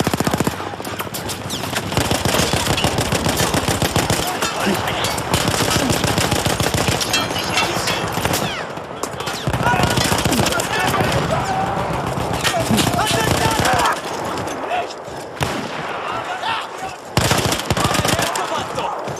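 Battlefield 1 machine gun fire, a loud sustained rattling burst of rapid shots that continues with brief pauses, with soldiers' shouted voices and battle noise mixed in.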